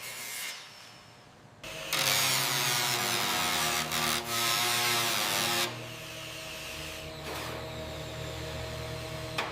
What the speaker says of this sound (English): Okay, starting the grind now.